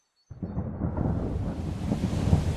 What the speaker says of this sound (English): Ah, I love a good storm.